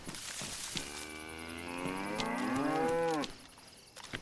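A cow in the survival game Livonia lets out one long, loud moo that rises and bends in pitch, fairly close, over a steady background hum, then stops abruptly.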